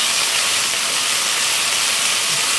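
Roast beef and mushrooms frying in a hot pan, a loud, steady sizzling hiss that holds unbroken throughout, close up and with no talking.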